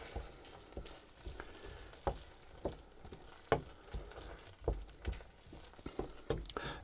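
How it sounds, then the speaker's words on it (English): Sausage casserole ingredients are stirred in a frying pan with a soft sizzle underneath, irregular spoon scrapes and knocks recurring every half second or so, fairly quiet and close, with no voices. "Going to stir that in."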